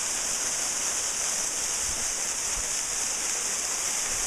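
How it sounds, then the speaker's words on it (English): A waterfall pours into a large natural bowl-shaped basin, giving a constant broad roar of falling water without breaks. "Created this waterfall"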